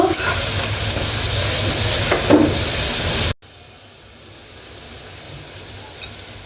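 Chepa shutki (dried fish) hits a hot pan of chili, garlic, ginger and dried chili and is stirred. A loud, bright sizzle lasts about three seconds, then abruptly drops to a softer, steady frying hiss.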